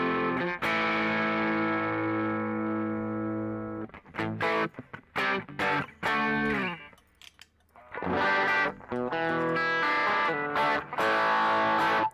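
A new electric guitar pushed into distorted overdrive breakup, with a long sustained crunchy chord, then choppy staccato strums and a short pause before dense, gritty chords ring out again, loud and up close with no talking.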